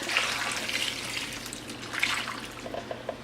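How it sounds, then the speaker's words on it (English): Vegetable broth being poured into a pot of butternut squash soup, giving a soft, continuous liquid splashing and trickling close by, fairly quiet, with no speech. "So anyways, just adding vegetable broth"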